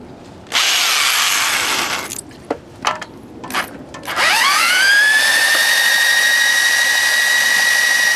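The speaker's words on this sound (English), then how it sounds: "So I'm going to put it on the drill." A power drill spins a vintage snowblower engine to check for spark. A steady burst of spinning is followed by a few short clicks and knocks, and then a long rising whir that settles into an even, close, continuous drone.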